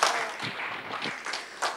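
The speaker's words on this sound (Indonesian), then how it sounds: "Kita berikan tepuk tangan yang meriah." A church congregation applauds during a Sunday service in a hotel hall: a short, moderately loud patter of claps with a few sharper individual hits, no speech over it.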